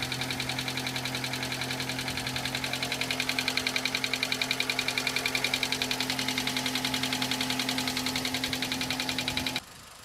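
A project car's engine idles steadily after starting, a close, even, rhythmic mechanical chatter with a constant hum, running for about nine seconds before cutting to a quieter background.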